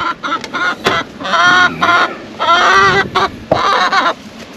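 Chickens cluck and squawk loudly inside a winter coop, a busy run of repeated clucks and harsh calls filling the space close by, with a few short pauses between bursts.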